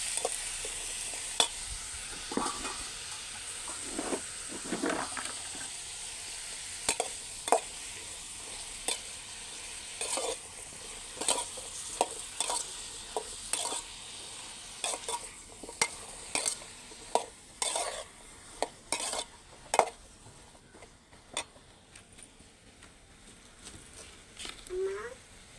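Brinjal sautés with curry leaves in a pan, a soft continuous sizzle broken by frequent sharp scrapes and taps of a spoon as the pieces are stirred, close and fairly quiet.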